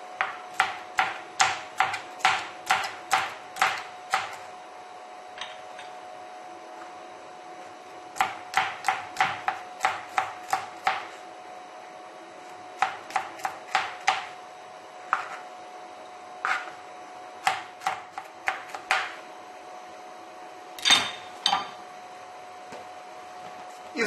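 Garlic being finely chopped with a knife on a board while preparing brined salo. Quick bursts of sharp, close taps come in clusters with short pauses between them.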